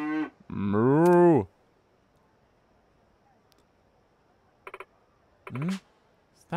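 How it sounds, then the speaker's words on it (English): Kasuga, a character in the video game Like a Dragon Infinite Wealth, gives a loud, drawn-out cow-like moo near the start, then a second, shorter moo near the end after a quiet pause broken by brief clicks. "Stop mooing, Mr. Kasuga."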